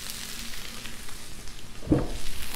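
Food sizzles in oil and butter on a Blackstone griddle, a soft steady frying hiss with a brief louder scrape or stir near the end, close by and without talk.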